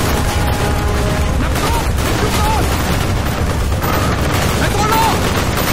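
A Call of Duty Black Ops village firefight gives a dense, continuous wash of gunfire and machine-gun bursts. Battle noise fills every moment, with shouted voices buried in the din.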